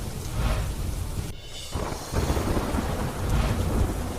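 Heavy downpour in Gir, Saurashtra, a loud continuous roar of rain with rumbling thunder and wind buffeting the microphone, briefly dipping before surging again.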